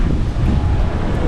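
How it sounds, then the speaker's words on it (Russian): Strong wind blowing by the sea at a resort pool, a steady roaring rush with low rumbling buffets, loud and continuous with no talking. "Ветер достаточно сильный"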